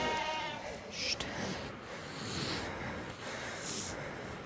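A ewe bleats during a sheep-handling contest, broken calls rising over a busy, noisy outdoor background with a crowd and a voice talking.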